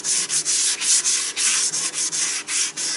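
Abrasive paper rubs lightly in small circles over a paint drip on a primed motorcycle part, giving a steady, close, rhythmic scratching with brief pauses between strokes.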